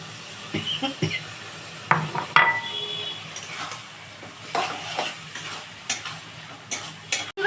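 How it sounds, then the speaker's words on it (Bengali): Okra tempered with panch phoron being tipped into a pan and stirred for a yogurt okra dish, giving a soft sizzle with scattered scrapes and clinks of a utensil against the pan, close by and without talk. "পাঁচফোড়ন দিয়ে যে ঢ্যাঁড়সটা ভাজা আছে ওই ঢ্যাঁড়সটা দিয়ে দিচ্ছি"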